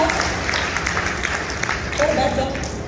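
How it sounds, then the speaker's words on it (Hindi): Audience applause at a business motivational seminar, a thick, continuous rattle of many hands at moderate volume, with a voice talking over it partway through. "एक बार सर के लिए जोरदार तालियां"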